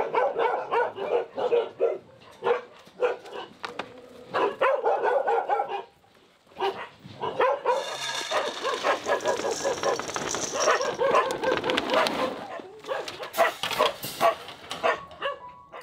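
Many dogs at a dog shelter bark and yip almost continuously, loud and close, with overlapping rapid barks, a brief lull midway, and a dense burst of frantic barking toward the end.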